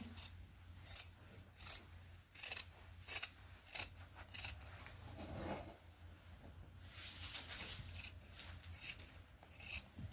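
Scissors cut through suit fabric to trim excess cloth at the neckline, a run of crisp repeated snips and rasping strokes, close and clear with no talking.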